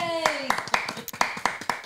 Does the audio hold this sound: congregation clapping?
yes